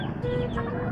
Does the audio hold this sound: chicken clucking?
yes